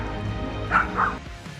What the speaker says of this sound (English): Look how fearlessly this doggy drives away a real bear from a residential street.